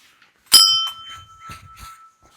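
A single bell at a forest goddess temple in Chatakpur is struck once, ringing out with a bright metallic tone that lingers and fades, followed by a few faint knocks and rustles.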